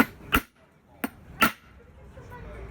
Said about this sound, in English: And I'm just going to hit it with a hammer.